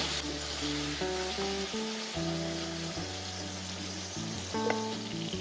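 Ridge gourd and potato fry in hot mustard oil in a kadai, giving a steady, soft sizzle throughout with a melodic music track playing over it.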